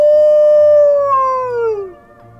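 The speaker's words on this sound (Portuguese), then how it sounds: "Meu uivo é muito bonito." A horse-hybrid character in a Roblox game lets out one long, loud, clean howl that holds steady and then slides downward before fading out.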